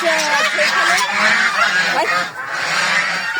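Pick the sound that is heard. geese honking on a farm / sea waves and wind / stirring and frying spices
geese honking on a farm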